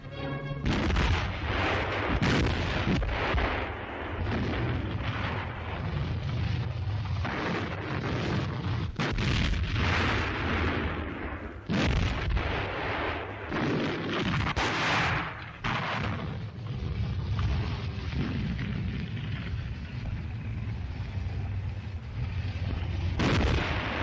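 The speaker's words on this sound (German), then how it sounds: "Flak-Artillerie vernichtet britische Panzer." Anti-aircraft artillery firing on British tanks south of Marsa Matruh in a 1942 wartime newsreel: dense, continuous loud booms and blasts, with sharp reports punctuating a rumbling barrage throughout.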